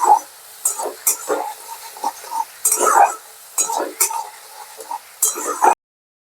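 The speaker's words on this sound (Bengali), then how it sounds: "এবার এটাকে আমি ভালো করে কষিয়ে নেব।" Chana dal spice paste, loosened with a splash of water, being sautéed and stirred in a pan, with repeated scraping clinks of a utensil against the metal and soft sizzling in short bursts, close and fairly loud.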